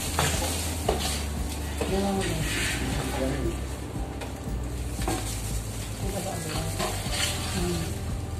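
Blender-ground spice paste sizzles and fries in a pan while it is stirred, with a steady crackle, occasional clinks of utensil on pan, and people talking over it.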